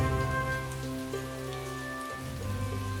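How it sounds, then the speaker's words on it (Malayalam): Heavy rain falls in a Malayalam cartoon story about a papaya tree, a steady close hiss of downpour running throughout beneath sustained musical tones, with no talking. "മഴ വളരെ കൂടുതലാണ്, എന്റെ കുഞ്ഞുങ്ങളും നനയുന്നുണ്ട്"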